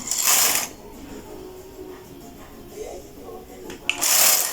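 Knitting machine carriage pushed across the needle bed while knitting a sleeve, two loud mechanical swooshing passes at the start and end with quieter clicks and handling noise between.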